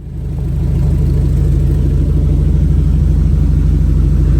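A 1988 Mitsubishi Starion engine idles loudly and close, a steady low rumble with a regular pulsing throb that settles after a brief rise at the start.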